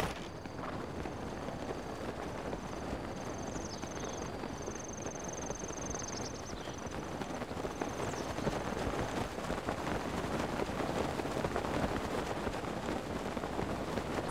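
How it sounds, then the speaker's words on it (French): Rain falling in the video game Zelda Breath of the Wild, a steady broadband patter that gradually grows a little louder, with faint high musical tones early on. "Ah, ça y commence à pleuvoir."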